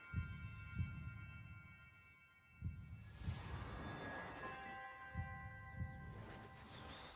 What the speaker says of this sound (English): I forget you could hear the heartbeat